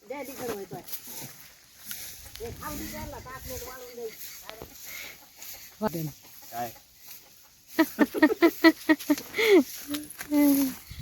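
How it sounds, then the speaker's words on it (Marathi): Hens and a rooster cluck and squawk intermittently close by in a village, with bursts of louder agitated calls near the end, while people talk over them. "त्या कोंबड्याचे नुसते हालत चालवले त्याने"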